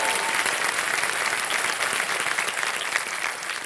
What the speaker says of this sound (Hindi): तालियां बज जाए इनके लिए एक बार फिर।